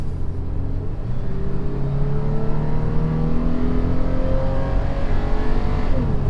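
A 2019 Toyota 4Runner SUV engine revs up steadily as it accelerates, a loud continuous roar with rising pitch and gear changes, heard from inside or close by.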